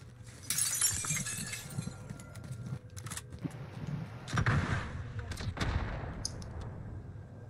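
Gunfire in the Warzone battle royale shooter, several sharp bursts and cracks scattered over the clip with glassy shattering impacts, loud and close over a rumbling background.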